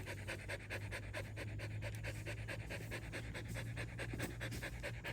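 A dog pants steadily in rapid, rhythmic breaths, close and continuous, during a mushroom-hunting walk through forest in Nong Hi district, Roi Et, with no talking.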